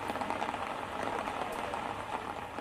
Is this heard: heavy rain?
yes